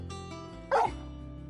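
A dog in the video game Final Fantasy XVI gives a single loud, close bark over a steady low musical hum.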